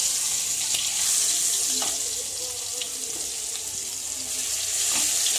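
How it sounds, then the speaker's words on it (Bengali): Sliced onion fries in hot oil left from frying ridge gourd for a katla fish curry, giving a steady, close hiss and crackle throughout with a few faint clinks. "এই তেলের মধ্যেই আমি পেঁয়াজ দিয়ে দিচ্ছি।"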